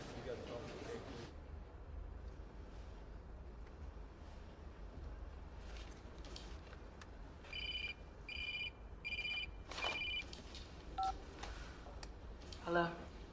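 In a Western comedy film scene, a telephone keypad is dialed after a quiet stretch: a series of short, evenly spaced beeping tones sounds at moderate level over faint background noise.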